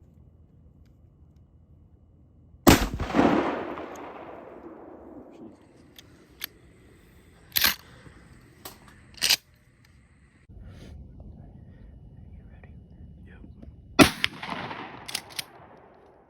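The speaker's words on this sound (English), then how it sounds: "So here's both of them shots right now." Rifle shots from two hunters taking does during Ohio deer gun season: two loud, sharp cracks spaced well apart, each trailing a long echoing rumble, with smaller clicks and knocks in between in a quiet outdoor setting.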